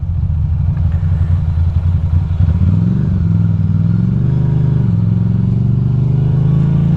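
A Ducati Monster motorcycle rides through city traffic between Brooklyn and Manhattan. Its loud, close engine drones steadily throughout, and the pitch climbs as it accelerates partway through.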